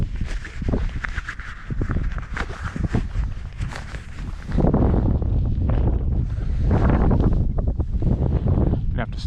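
Chilly wind blows outdoors, buffeting the microphone in loud, rough gusts that grow heavier and more constant partway through, with faint shuffling movement underneath.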